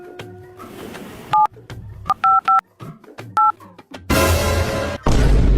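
A mobile phone dials for an emergency call with a run of short, loud keypad tones spaced irregularly over quiet background noise, followed by a harsh burst of static-like noise.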